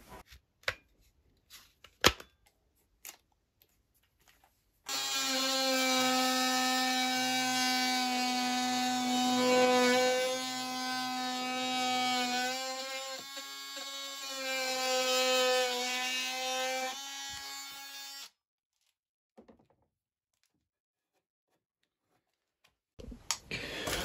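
A DeWalt DCS356 cordless oscillating multi-tool cuts into wood with a loud, steady, high buzzing whine for about thirteen seconds, its pitch dipping slightly under load, with quiet handling knocks before and after.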